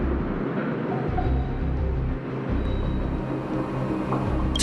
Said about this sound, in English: That noise! Do fragmentum monsters usually sound like this?